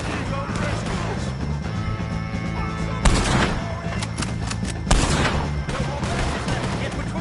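Gunfire in Red Dead Redemption 2 during a fight with O'Driscoll gang members, a steady rattle of shots under a busy din, with two loud bursts standing out midway and voices shouting over the action.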